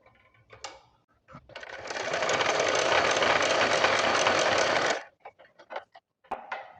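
A sewing machine stitches a joint on a suit sleeve, running in one steady, close burst of about three seconds, with a few clicks and handling sounds of the fabric before and after.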